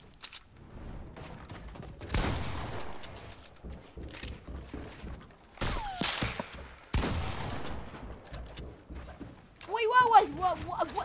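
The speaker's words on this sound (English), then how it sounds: "Shotgun attack!" Shotgun blasts in the video game Fortnite: a few loud, sharp bursts spaced seconds apart over a busy background of game noise, ending in a warbling tonal effect.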